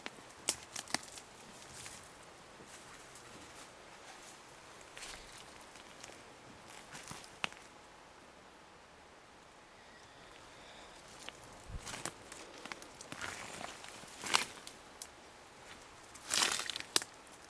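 Soft, irregular footsteps crunch and rustle through dense forest undergrowth in northern Maine, with scattered snaps and brushing sounds growing louder toward the end.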